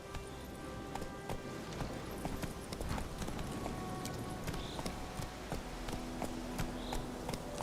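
Game horse Roach trots along with steady, rhythmic clip-clop hoofbeats over a continuous outdoor ambience, moderately close and fairly quiet.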